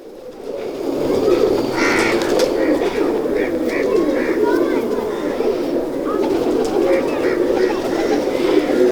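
Many pigeons of the almari breed coo steadily together on a rooftop loft, a dense low murmur that runs throughout with some flapping, and someone talks faintly over it.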